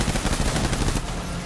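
Dense, continuous gunfire in the Death Stranding video game, a loud rapid rattle of overlapping shots lasting about a second before easing into a lower roar.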